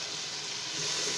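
Chopped green chillies sizzling in ghee with masala for dhaba-style aloo methi, a dense, continuous hiss that stays close and even across the short stretch.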